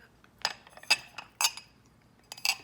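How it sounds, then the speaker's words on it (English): A rocks glass being rimmed with lime and salt at a kitchen counter, giving four sharp glassy clinks at uneven intervals, close and clear against near silence. "I'm going to just get a rocks glass and rim it with salt"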